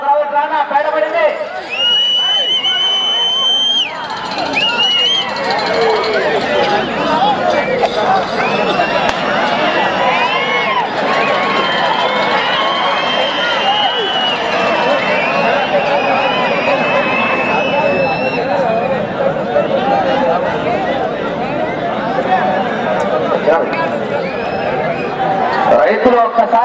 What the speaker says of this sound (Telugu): రైతులు ఒక్కసారి గట్టిగా విజిల్లు చప్పట్లు కేకలేస్తా